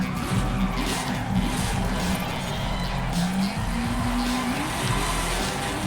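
Racing cars in the video game Forza Horizon 5, including a Supra, drone on steadily with engine tones rising and falling, while tire skidding and squealing runs throughout at a constant, fairly loud level.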